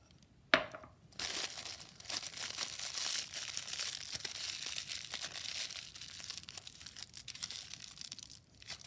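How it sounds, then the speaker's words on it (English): Plastic icing bag being snipped open, one sharp snip followed by several seconds of steady crinkling and rustling of the plastic, close up and alone. "I'm just going to cut the top of the bag off"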